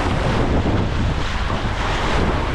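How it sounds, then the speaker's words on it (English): Loud, constant rushing of water and wind roars without a break, like rough class 1 river waves on the Yukon heard from a boat, with no voices. "Got some waves here."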